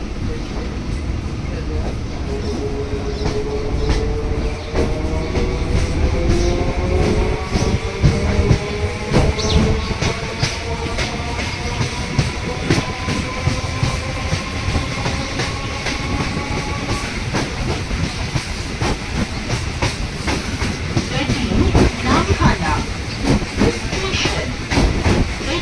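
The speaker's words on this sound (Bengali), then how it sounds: "শিয়ালদা থেকে 32টা স্টেশন পার করে 3 ঘন্টার লোকাল ট্রেন জার্নি করে একদম সঠিক টাইমে 6টা 53-তে আমরা চলে আসলাম নামখানা" A local passenger train running from Sealdah to Namkhana in West Bengal, heard from on board: steady loud rumble and rattling wheels with rhythmic clickety-clack over the rails, plus faint squealing tones, continuous throughout.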